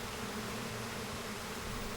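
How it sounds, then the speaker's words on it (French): Bees in a French documentary setting among flowers, producing a steady, dense buzzing drone that fills the whole clip without pauses, fairly close and even in loudness, with no voices present. "L'assiduité du travail des abeilles est proverbiale, mais pour Peter, les abeilles sont trop sélectives"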